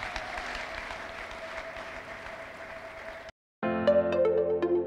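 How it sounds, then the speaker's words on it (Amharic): Congregation applauding at a church service led by Prophet Deresse Laekw, steady clapping for over three seconds, then a brief cut to silence followed by music. "ኢየሱስ ይባርኮት ተባረኩልኝ አጨብጭቡና ሸኛቸው"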